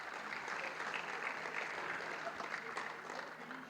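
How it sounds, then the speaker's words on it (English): Audience applause for the Charlotte Convention Center staff at the North Carolina Motorsports Industry Awards ceremony, a steady dense clapping from a large crowd that holds evenly throughout and eases slightly at the end. "How about a round of applause for our friends at the Charlotte Convention Center?"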